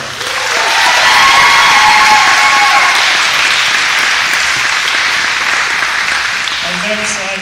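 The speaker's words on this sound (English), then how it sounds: "let's keep the applause going for Miss Sadie Ariola" Enthusiastic applause with cheering for a student signee at a school spring signing day, a loud, full crowd clapping steadily, with voices calling out over it and fading slightly at the end.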